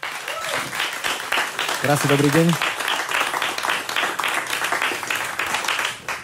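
Studio audience applause welcoming a guest singer at a piano music show, steady clapping throughout while a host speaks over it.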